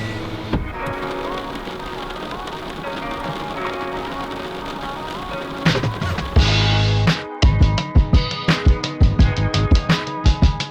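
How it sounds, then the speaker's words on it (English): Rain patters on a parked car during a wet day at the start of a hike to Blue Pools in New Zealand, a steady broadband wash that gives way to sharper, irregular drops tapping close by. "It's raining a bit outside"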